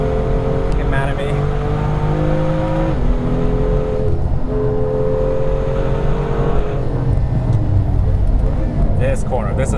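BMW M2 from 2016 with manual or DCT gearbox lapping a race track, its engine loud and steady throughout, revving and shifting with rising and falling tones, while a driver talks over it.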